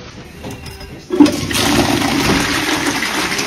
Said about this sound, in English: They now come with a steam clean with every flush.